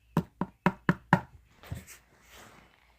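Five sharp knocks in an even, quick rhythm imitate tapping on a window, close and loud, followed by a softer scrape and faint rustle.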